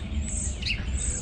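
Small birds chirp at a backyard feeder set in an open area near cover, a steady bright twittering over a constant outdoor hiss, with one louder call standing out midway.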